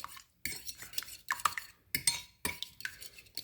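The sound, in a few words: beating eggs with a fork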